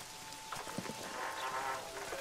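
Rain in the video game The Witcher 2, a steady soft patter of drops across a broad hiss, fairly quiet and even throughout, with no voices.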